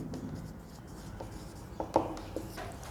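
Pen writing out a geometry proof on paper during a circles maths lesson, a faint continuous scratching with a few slightly louder strokes, quiet and close throughout.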